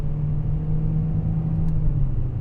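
Steady low engine rumble from a 2021 Honda HR-V EX AWD in sport mode with manual gear shifting, heard from inside the cabin as a continuous moderate drone with no talking.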